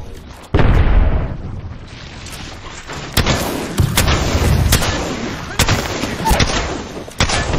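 An arc star grenade bursts in the Apex Legends battle royale shooter amid a firefight: a string of loud, sharp explosive cracks and booms, close and irregularly spaced, over a steady roar of game action.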